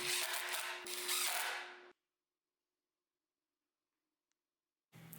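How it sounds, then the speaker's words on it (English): A power drill driving screws into wood whirs steadily for about two seconds, stops into silence, then briefly starts up again. "used a self-centering drill bit to add some pilot holes before driving in the screws"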